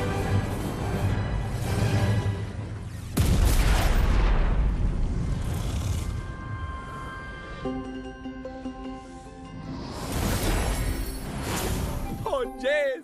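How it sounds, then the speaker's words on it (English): A sudden booming blast comes from a Traptanium overload explosion in the video game Skylanders Trap Team, followed by a rumbling roar and further bursts. Game voices are heard around it. "Initiating complete and total explosion."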